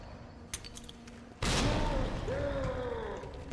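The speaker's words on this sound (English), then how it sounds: "now we're going to huck the grenade at him" Grenade hurled during a Resident Evil 4 boss fight with Leon on Hardcore, a sudden loud blast erupting after a quieter stretch and a sharp click, its roar lingering under game noise and high whining tones.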